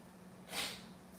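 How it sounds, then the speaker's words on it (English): A single short, breathy nose-blow rises and fades within about half a second over a faint steady hum. "let me blow my nose"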